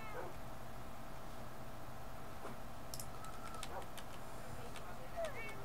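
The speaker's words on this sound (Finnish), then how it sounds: "Kissa." A cat meows a few times inside a Minecraft-based horror game, with short synthetic game sounds over a steady low background hum.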